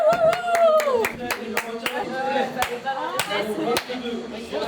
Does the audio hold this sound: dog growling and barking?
no